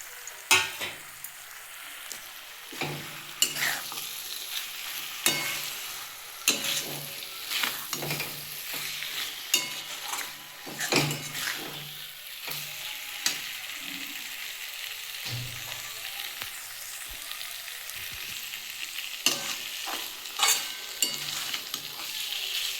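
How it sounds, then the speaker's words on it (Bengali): Fried flat beans are stirred in a wok with a spatula, giving soft repeated scraping strokes over a steady quiet sizzle, with no voices. "আমি এবার ভাজার সিমগুলো একটু দিয়ে নাড়িয়ে দেবো এতে"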